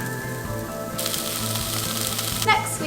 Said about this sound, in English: now that the grill is hot is put our sausages in